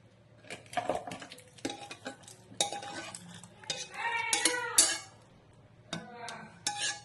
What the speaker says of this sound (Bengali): এবার আমি এটা একটা পাত্রে ঢেলে নেব।